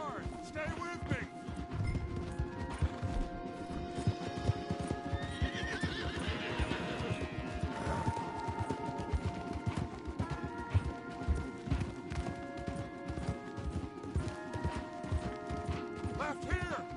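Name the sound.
horses galloping in a video game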